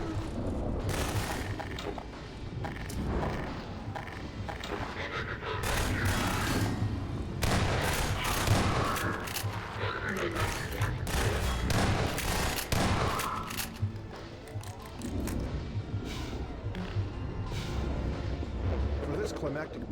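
Heavy, booming Strider cannon blasts and rattling gunfire in a Half-Life 2: Episode One battle, loud and continuous for the whole stretch, with explosions and a voice talking over the combat.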